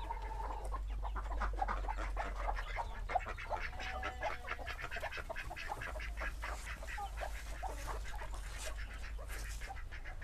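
Muscovy ducklings, a young brood hatched under a mother duck, peep and chirp continuously in a dense overlapping chorus over a low steady hum, with no talking.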